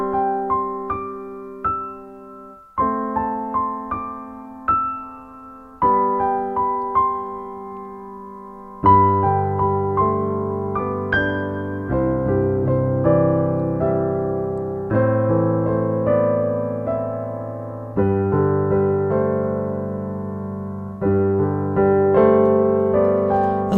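A Pianoteq 7 Pro virtual piano with the New York Steinway D preset plays a solo passage. Sparse struck notes and chords come first, then fuller, richer playing with bass notes, each attack decaying cleanly with no voices.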